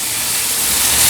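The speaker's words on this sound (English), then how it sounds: "Give it a very nice sizzle." Steak searing in a hot pan on the stove, giving a loud, continuous hissing sizzle that builds slightly over about a second.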